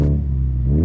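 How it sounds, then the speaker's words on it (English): A straight-piped Mazda 6 engine revs on a cold start, a loud, raw, droning exhaust note with strong low harmonics that swells and shifts pitch through a short blip, close and alone. "And for some revs,"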